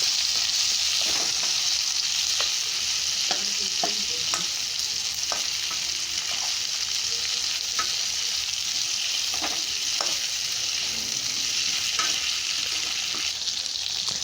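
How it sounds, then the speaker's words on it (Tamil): Dried red chillies sautéing in hot oil for garlic chutney, a steady loud sizzle running throughout, with scattered light clicks and scrapes of a spoon stirring in the pan and no voices. "நல்லா வதக்கிட்டு காய்ந்த மிளகாய் போட்டுருங்க."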